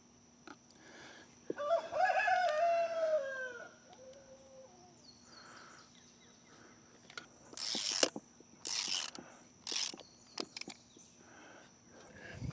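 Torque wrench tightening bolts while reassembling an excavator, giving a few short ratcheting clicks close by; a rooster crows in the background beforehand.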